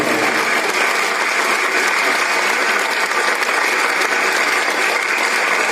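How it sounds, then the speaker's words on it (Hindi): An audience at an inauguration, farewell and donor-honouring ceremony in Khattu's Nareva Bera breaks into thick, continuous applause, a loud, rapid crackle of many hands that barely varies throughout. "तालियों की गड़गड़ाहट बंद नहीं होनी चाहिए"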